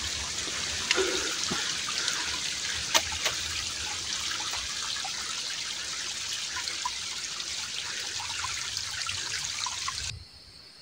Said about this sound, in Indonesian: Jadi mata airnya itu mengalir kayak sungai kecil gitu